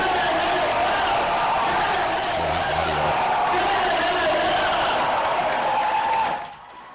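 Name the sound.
crowd clapping and cheering at a resignation announcement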